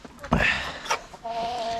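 Close, short chicken clucks and squawks, a few quick calls followed by a sustained murmur of hens.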